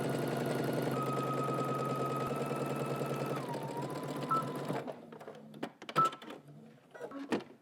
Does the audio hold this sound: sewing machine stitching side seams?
yes